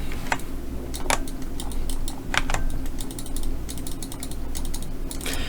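Typing on a computer keyboard while working a Hancom Office exercise, with irregular clusters of crisp key clicks and a few louder single taps over a low background hum, close and without speech.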